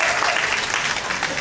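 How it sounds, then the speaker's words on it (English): Large theater audience at a shipboard vocal competition bursts into steady, dense applause, loud and sustained throughout with no pause. "how about a huge round of applause?"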